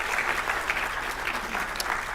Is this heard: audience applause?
yes